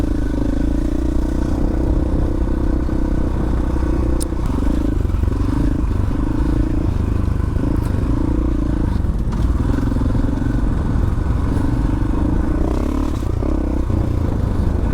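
A KTM 500EXC-F dual sport motorcycle ridden on a trail, its engine droning loudly and steadily from close range, with clatter and wind rush throughout and no clear gaps.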